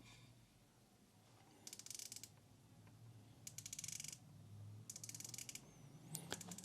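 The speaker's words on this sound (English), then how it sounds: "The bezel is now much firmer, great clicks and movement while still easy to rotate." A watch bezel on a Land Rover x Elliot Brown diver watch is turned in three short bursts of crisp, quiet ratchet clicks, each run a rapid series of tiny detents over faint background hiss.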